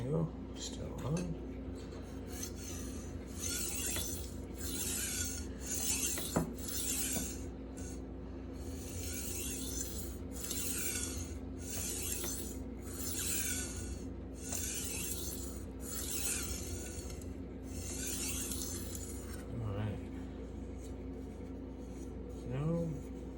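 S35VN steel knife blade is stroked across an Atoma 600-grit diamond plate, repeated rhythmic hissing rasps, about a dozen close strokes over a low background hum.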